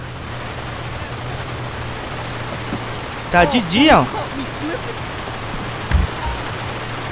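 Steady, even hiss of rain falling in GTA San Andreas running an ENB graphics mod, continuing throughout with a low hum beneath and brief bursts of someone talking over it.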